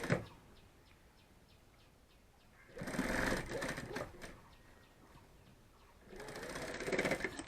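A sewing machine stitches a bag in two runs of fast, even whirring, each a few seconds long, with quiet pauses between them and a soft ticking during the gaps.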